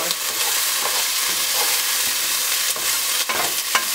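Egg whites and bell peppers sizzle in a frying pan as they are stirred. A loud, continuous crackling hiss runs throughout, broken by occasional scraping stir strokes, with no talking.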